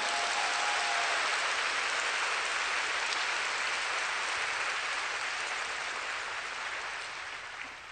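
Sustained applause from a church congregation at a women's congress, a dense, steady wash of clapping hands filling the room and only slowly thinning toward the end, with no voices over it.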